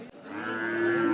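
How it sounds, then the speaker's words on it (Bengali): A large bull at a busy cattle market gives one long, deep, steady moo, loud and close, with no talking over it. "বিশাল বড় একটি ষাঁড়।"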